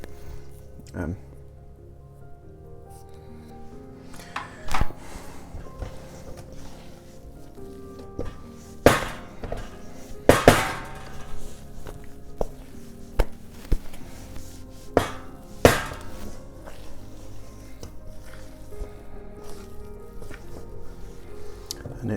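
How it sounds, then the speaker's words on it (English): Lembas bread dough, an elvish-style loaf, being worked by hand, giving soft sticky squishes and irregular slaps at close range, with sharper thumps every few seconds over quiet kitchen background. "because it's more like a dough now, you can knead it around"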